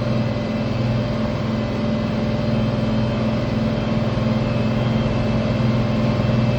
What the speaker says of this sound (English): It's the big tractor on the farm.